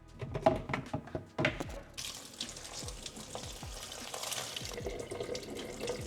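Fish being rinsed under a running kitchen tap, with steady splashing water filling a sink after a few sharp knocks and clatters at the start, continuing close and fairly loud.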